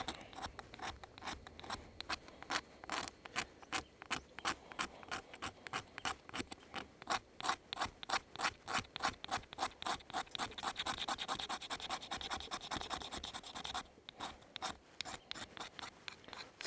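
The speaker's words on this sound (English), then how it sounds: "I'm just scraping nice little pieces of fat wood onto that tack cloth." Steady series of close, crisp scraping strokes as a metal scraper shaves sticky fatwood into small pieces onto a tack cloth beside a SilverFire Scout 304 stainless steel stove, the rasps repeating rapidly with a short pause near the end.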